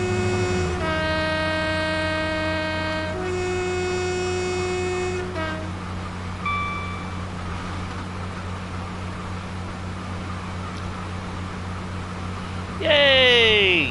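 A Class 66 Freightliner intermodal freight train in Train Sim World 6 rumbles past with steady low engine drone, sounding two long horn blasts early on, with a rising electronic tone near the end.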